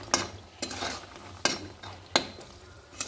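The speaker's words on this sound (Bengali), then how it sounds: "বড়িগুলো ভেজে নিয়েছি" Lentil dumplings (bori) fry in a pan of oil, a soft sizzle running underneath as a utensil stirs and scrapes, with four or five sharp metallic knocks spaced roughly evenly apart.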